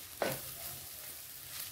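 A spoon scrapes once as homemade masala, garam masala and turmeric are stirred into fresh jawla frying in a pan, followed by a steady, soft sizzle of oil that continues to the end.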